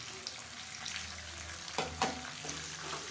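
Garlic, onion, mint and coriander sauté together in a pan with a soft, steady frying hiss, punctuated by a couple of spoon scrapes and knocks near the end, with no speech.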